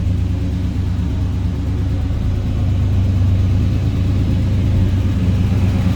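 A 1976 Oldsmobile Cutlass Salon with a 350 V8 idling close by, heard from behind the car, giving a steady, deep burbling rumble with no talk.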